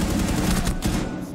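Gunfire in the first-person shooter Rainbow Six Siege: a short, dense burst of rapid, loud shots packed close together, heard alone.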